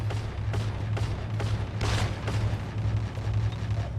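MP40 submachine gun fire in the video game Free Fire, close-range shots popping in quick irregular bursts over a steady low game hum.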